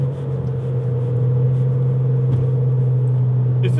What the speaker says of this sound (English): Oh, the tire noise is so loud.